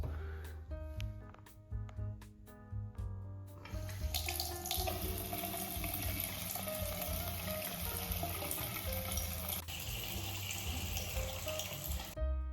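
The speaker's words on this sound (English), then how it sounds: "I'm going to turn on the main cold and see if I can't get water to come through the faucet" A bathroom faucet runs cold water after being reconnected to the main supply: a few sputtering knocks and bursts at first, then a loud steady rushing flow that continues before cutting off at the end.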